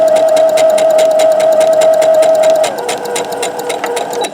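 A sewing machine stitches the sides of a fluorescent yellow tote bag, running in a rapid, even clatter of needle strokes close by, with a steady motor tone that drops out partway as the stitching slows.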